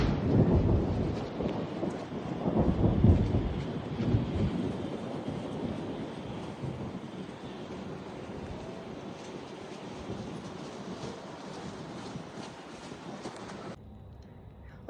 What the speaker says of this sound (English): Okay, it started raining,